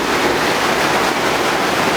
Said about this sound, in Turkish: Şu an mağaranın içerisinde suyun aktığı şırıl şırıl görüntüleri sizlere göstermeye çalışıyorum.